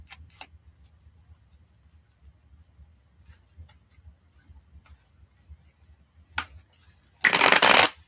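Tarot cards being handled and shuffled: scattered light ticks and taps for several seconds, then a short flurry, ending in a loud, close, sustained riffle of cards.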